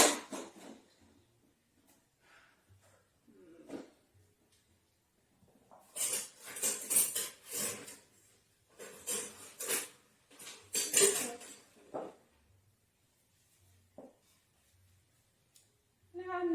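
Kitchen utensils rummaged through while switching tools, scattered bursts of metallic clinking and clattering of pots and cutlery, close by in a quiet room, with brief talking between them.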